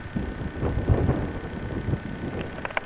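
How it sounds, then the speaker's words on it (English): Strong wind buffets a cliff top during a climb, a steady low rumble and gusting roar against the microphone, loud and close, with a few faint higher clicks near the end. "And the wind has really started to bite."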